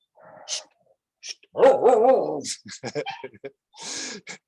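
Dogs give several short, close barks and yips in quick bursts, with quiet gaps between them and no talking.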